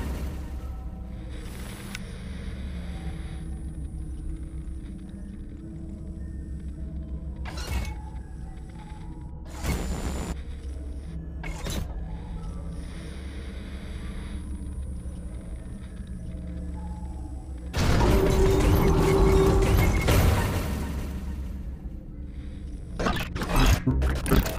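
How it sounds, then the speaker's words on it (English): Freddy animatronic attack in the mobile game Five Nights at Freddy's AR, distorted: a steady low rumbling drone broken by sharp mechanical bursts and creaks, ending in a louder, harsher roaring surge of static-like noise. "just enjoy the rest of this little segment of Freddy's whole attack"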